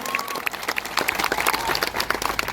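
A crowd at a political rally in Gujarat applauds Chaitar Vasava with dense, steady clapping that swells slightly, heard from within the audience and without talk.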